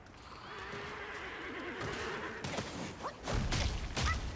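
A horse neighs in the Black Myth: Wukong video game, a clear whinny followed by thumps, whooshes and combat sounds from the game.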